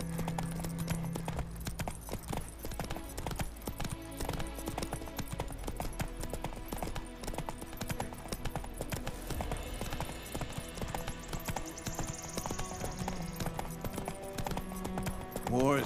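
Steady, rhythmic clip-clop of a horse's hooves as the horse Roach trots along in The Witcher 3 video game, moderately loud with game ambience and characters talking over it.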